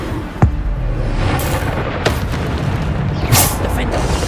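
Bombarda explosion spell going off in Hogwarts Legacy, a few sharp booming blasts at irregular intervals over steady game noise, with voices shouting spell names throughout.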